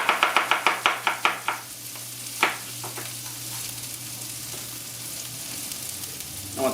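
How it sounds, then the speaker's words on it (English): Whole garlic cloves and shallots frying in a pan for a steak dish: a quick run of rhythmic scraping or stirring strokes, then a steady, quiet sizzle with a few scattered clicks. "I'm going to throw my whole garlic in there and some shallots."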